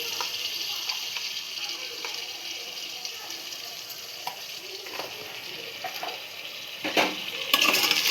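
Ginger garlic paste frying and being stirred in a pan while making veg biryani, a soft steady sizzle with faint scraping and a few louder clatters near the end, no talking.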